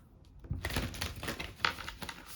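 Quick riffling and papery snapping of cards being shuffled, a crisp burst of flutter near the mic, fairly soft overall.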